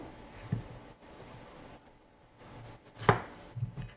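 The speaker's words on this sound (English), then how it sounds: "Chop those ends off because sometimes they can be bitter." A knife chops the ends off fresh cucumbers on a cutting board, giving a few sharp, close, isolated knocks spaced seconds apart against quiet kitchen background.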